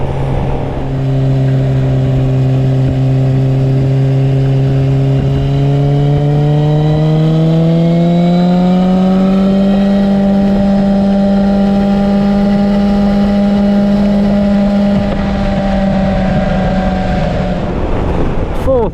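A motorcycle in fourth gear sounds loud and close: the smooth engine note climbs steadily as it accelerates, then holds a sustained drone under wind rush.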